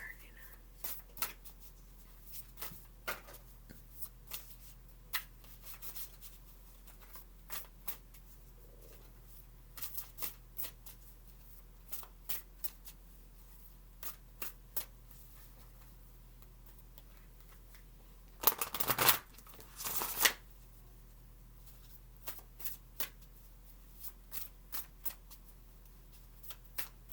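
A deck of cards is handled and shuffled in soft, sporadic riffles and flicks, with a louder burst of shuffling partway through and quiet whispering in between.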